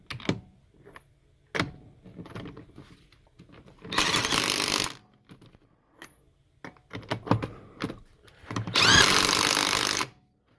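An impact gun spins wheel nuts onto a Subaru, with two loud, sustained bursts of a second or so each, separated by quieter clinks and handling noises.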